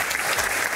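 A studio audience on a television quiz show gives a brief burst of dense applause, heard close.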